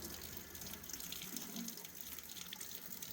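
A kitchen mixer tap fed by an instantaneous electric water heater runs a steady cold-water stream into a sink, a continuous close hiss with no pauses.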